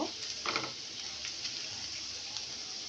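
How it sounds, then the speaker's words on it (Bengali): Close, steady sizzling of onions and dried red chillies frying in hot oil, a bright hiss with occasional small crackles and pops. "আমি শুকনো মরিচটাও ভেজে নিব"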